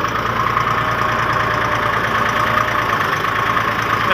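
A Pakistani excavator's engine running at normal revs, a steady, loud, close diesel drone with an even low rumble and no talking.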